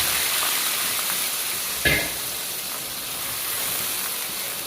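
Ground onions frying in a pan until light brown, a soft continuous sizzle and hiss with one brief sharper clatter partway through, and no talking.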